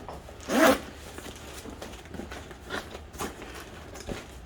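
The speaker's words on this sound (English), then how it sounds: "You zip this one up." A zipper on a LinQ Urban Bag backpack for the Can-Am Ryker is pulled shut in one quick, loud close-up zip, followed by faint handling rustles.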